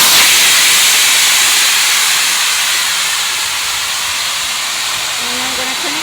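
An electric pump deflates an Outdoor Master Orion 12'6" inflatable SUP paddle board with a loud, steady rushing hiss of air that fades slightly over several seconds.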